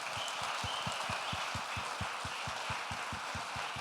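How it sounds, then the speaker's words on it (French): An audience at a closing session applauds itself, a steady wash of many hands clapping evenly for several seconds with no voices. "on peut tous s'applaudir pour notre participation"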